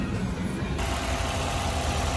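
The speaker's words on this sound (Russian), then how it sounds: "Моторчик работает ровно, все исправно." A 2018 Honda Insight Touring hybrid, a flood-damaged auction car, idles with a steady, even engine hum throughout, close and continuous with a slight change in tone partway.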